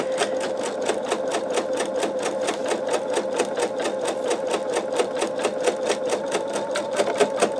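An embroidery machine stitches a sugar skull design in a fast, steady mechanical rattle of evenly spaced needle strokes, close and constant with no pauses.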